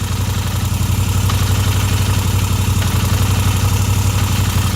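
A warm Moto Guzzi V7 III Stone motorcycle idling close by, a loud, steady low-pitched engine throb with a rattling clutch, running unbroken throughout.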